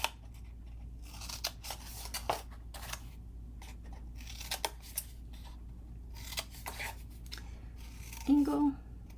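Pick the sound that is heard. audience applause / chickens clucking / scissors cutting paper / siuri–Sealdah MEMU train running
scissors cutting paper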